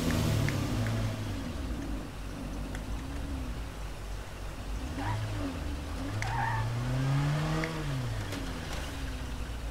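A car engine drones steadily in the zombie survival game State of Decay 2, with rising and falling revs and occasional tyre noise, and no talk over it.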